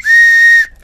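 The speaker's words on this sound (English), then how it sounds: "Let me give you the tone on this whistle" A survival whistle blows one loud, piercing, steady tone lasting well over half a second, close by, then cuts off sharply.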